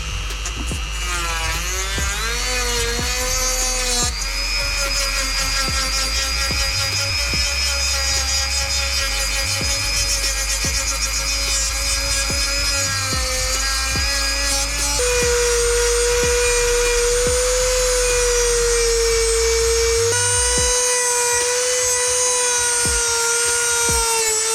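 Rear wheel arches of a Honda Civic Type R EP3 being sanded down toward bare metal, a loud, steady power-tool whine and drone that runs unbroken and close up throughout.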